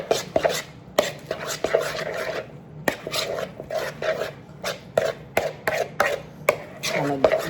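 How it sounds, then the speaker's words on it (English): Eggs being mixed into a salmon patty mixture, heard as close, rhythmic strokes and scrapes against the bowl, repeating about twice a second with short pauses. "So I'll put 3 eggs in there. And then you really mix that up really good."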